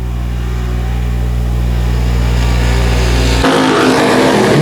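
Dirt track race cars accelerate hard on a green flag restart, engines roaring loudly and close with a rising, revving drone that jumps into a sharper, brighter blast as the pack surges past.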